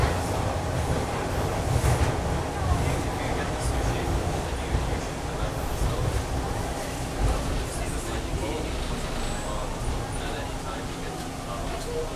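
Toronto subway train pulling into Christie Station, a loud, steady rumble and rolling roar of the carriages heard from inside, continuous throughout with a faint automated announcement.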